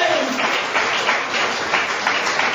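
A church congregation applauding, a dense, steady wash of many hands clapping together at a moderate distance, continuous throughout with no pauses.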